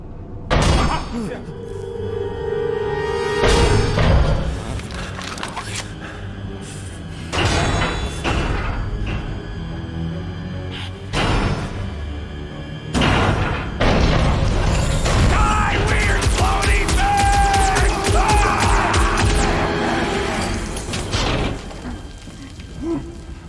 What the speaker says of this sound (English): It's a swarm of old cleaner bots.